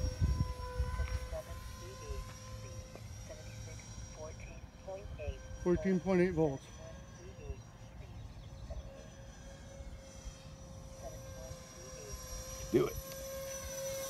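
A model B-2 Spirit aircraft on its maiden flight drones steadily overhead, a continuous engine whine heard under outdoor chatter with several people talking.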